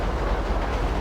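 A train runs along a single-track line in GTA V, producing a steady, loud rumble of wheels on rails with no pauses.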